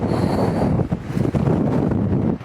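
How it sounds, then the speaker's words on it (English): Strong coastal wind in Kaikoura, New Zealand, buffets the microphone with loud, gusty roaring rumble throughout, and no voices are heard. "it is so windy"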